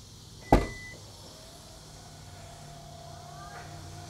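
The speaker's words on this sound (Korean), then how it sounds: "우선 트렁크 한번 열어보도록 하겠습니다" A Kia Sorento Hybrid tailgate is opened: one sharp latch click, then a quiet electric motor whirring steadily as the powered trunk lid rises.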